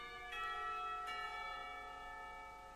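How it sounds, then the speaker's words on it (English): A school bell in the Katawa Shoujo visual novel rings out in two bright, sustained chimes close together, each strike leaving a long ringing tone that slowly fades. "The lunch bell sounds"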